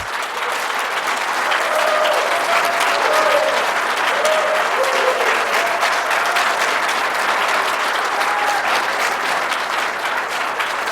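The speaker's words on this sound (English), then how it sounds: "Please join me in one final warm round of applause for Eric, Dana Marie, and Peter." Warm, sustained applause from a celebration audience at a law school honoring event, a steady dense patter of many hands for about ten seconds, moderately distant with a few voices rising faintly over it.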